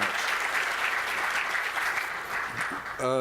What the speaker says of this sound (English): Please stand and give them a big round of applause.